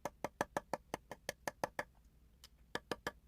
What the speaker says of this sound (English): So all I'm going to do on this pivot pin is I'm going to peen around the outside edge.